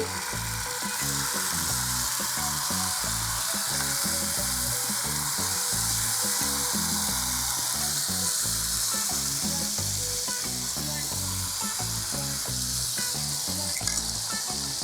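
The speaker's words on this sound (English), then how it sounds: "And you really want to get that sizzle when you're cooking" Chicken sizzles and crackles steadily in hot oil, close and continuous, with a dense hiss and rapid popping throughout.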